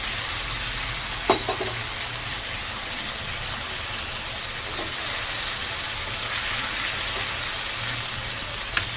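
Green chilies and soaked ingredients, cashew paste among them, frying in a pan for a bhindi posto prawn kofta dish, a steady broadband sizzle with a couple of sharp clinks from a utensil, no voices.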